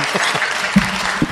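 Council meeting attendees break into short, dense applause, a close burst of clapping lasting barely over a second with a few voices mixed in.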